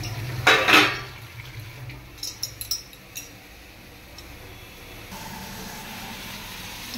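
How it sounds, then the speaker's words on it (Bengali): A lid set onto a frying pan of poppy-seed fry with aubergine, potato and beans, giving a few sharp metallic clanks and clinks up close, then a soft low simmer. "এখন আমি ভাজাটা ঢাকিয়ে দিচ্ছি, গ্যাসটা সিম করে দিলাম"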